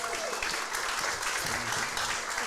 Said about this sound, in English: Eruption of cheers from the crowd.